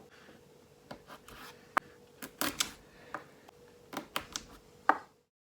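A kitchen knife scores chestnuts on a cutting board in a series of sharp, close taps and short scrapes, irregularly spaced, with quiet gaps between and silence at the end.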